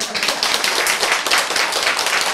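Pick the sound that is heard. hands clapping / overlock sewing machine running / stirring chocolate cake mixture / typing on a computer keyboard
hands clapping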